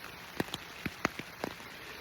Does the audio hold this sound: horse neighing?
no